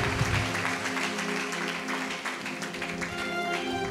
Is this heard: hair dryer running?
no